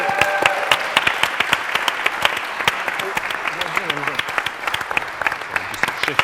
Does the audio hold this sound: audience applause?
yes